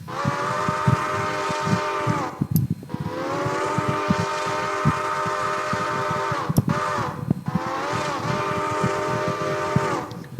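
Steam whistle of a Pennsylvania A5s 0-4-0 model locomotive, three long, loud, sustained harmonic blasts separated by brief pauses with faint mechanical clicks.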